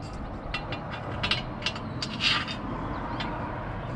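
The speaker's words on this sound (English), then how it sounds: "Now you take this bolt and you're going to slide it in the channel." A bolt slides into the channel of an LLOD bed rack on a Jeep Gladiator, making close, short metallic clicks and scrapes in a loose irregular series over a low hum.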